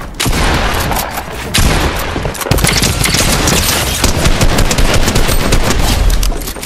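Sustained rapid automatic fire from a drum gun in Fortnite, loud and close, with dense continuous bursts and brief pauses between strings of shots.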